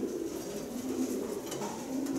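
Racing pigeons coo softly and steadily nearby, a low repeated murmur with no voices over it.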